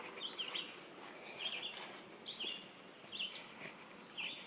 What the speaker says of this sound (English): I don't know if you can hear the birds singing